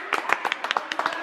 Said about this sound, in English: A round of applause for Saqib.